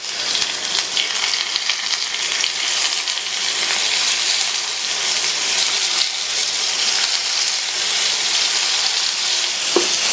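Idli batter mixture fries in hot oil in the cavities of a paniyaram pan over a low flame, a loud, dense, continuous sizzle with one small click near the end.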